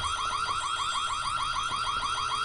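School intruder alarm in the White Day horror video game, a rapid rising whooping siren repeating in quick regular cycles, loud and continuous without pause.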